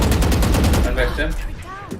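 Rapid gunfire in the Valorant video game during a LOUD versus SEN Masters match, a dense burst of shots in the first second that thins out as the clip goes on.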